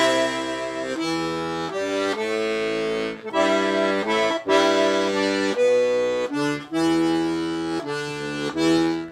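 A piano accordion plays two zydeco measures slowly with both hands, paired right-hand notes over single bass notes, loud and alone, the chords repeating in a steady, deliberate rhythm with brief gaps between phrases.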